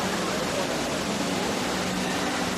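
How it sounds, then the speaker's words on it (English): An indoor waterfall inside Dubai Mall produces a steady, dense rush of falling water with no pauses, like broad hiss filling a large hall. "That's actually a waterfall."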